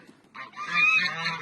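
A duck in a pen gives a single loud, drawn-out honking call that rises out of near quiet and holds for about a second, close by.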